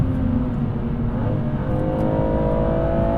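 A BMW M240i 2-series accelerating hard, its engine a steady, loud, close drone with a pitch that rises and holds through the run, with no talking over it.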